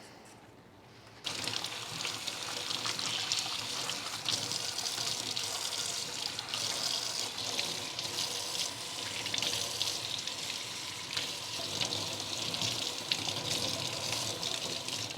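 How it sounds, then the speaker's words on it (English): Tap water runs steadily over plant rhizome cuttings being rinsed, a constant close splashing gush that starts abruptly after a moment of quiet and continues without talk. "I'm gonna rinse this underwater"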